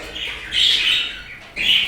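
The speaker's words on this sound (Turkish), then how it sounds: "gökkuşağı ispinozlarım" Gouldian finches and budgerigars chirp in an indoor bird room, with a couple of loud, close bursts of bright tweeting separated by a brief quieter gap.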